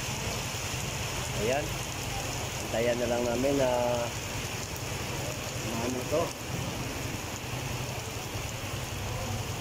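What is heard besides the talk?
heavy rain falling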